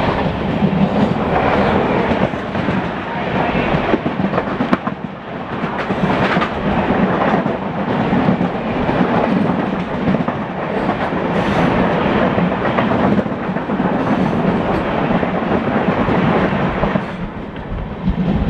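Saharsa Bandra Humsafar Express train running, a loud, continuous rumble of wheels and carriages with rhythmic clatter throughout.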